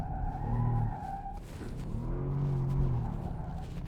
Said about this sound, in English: Continental GT hybrid has just gone sideways everywhere